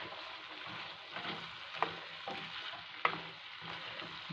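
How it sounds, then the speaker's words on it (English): Fried channa (chickpeas) with added chili being stirred in a pan, giving a soft continuous sizzle with scraping strokes and two sharp clicks of the utensil against the pan, fairly quiet and with no talking. "Give it a good stir, mix it well."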